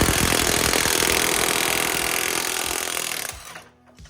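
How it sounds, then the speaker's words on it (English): Steady loud mechanical whirring, like an impact tool, runs for about three seconds as a pitman arm puller is tightened on the steering of a Jeep Cherokee XJ, then cuts off, leaving faint clinks and quiet. "You're gonna wanna put your Pitman arm puller on there"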